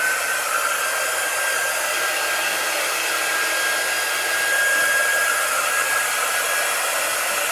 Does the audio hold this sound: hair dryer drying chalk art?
yes